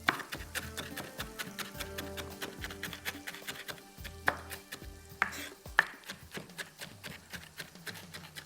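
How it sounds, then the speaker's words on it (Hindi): Rapid, steady knife strokes finely chopping onion on a cutting board in a home kitchen, a close, crisp run of regular taps with a few louder knocks, no talking. "अब प्याज को करते हैं चॉप बारीक बिल्कुल।"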